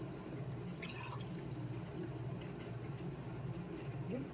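Water is poured into a measuring cup in a kitchen: a faint, steady trickle and splash under low background hum, with the pitch of the filling rising slightly near the end.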